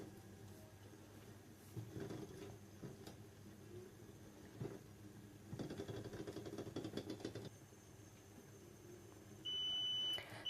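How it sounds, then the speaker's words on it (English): A kitchen hob timer gives a high electronic beep near the end, steady and fairly loud, over a background of low rumbling room noise and clatter. "hob is beeping at us to tell us that the time is at 0"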